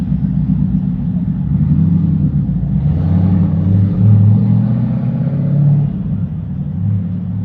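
A TVR sports car pulls away, its deep engine rumble swelling louder in a couple of surges as it accelerates, then easing off slightly toward the end.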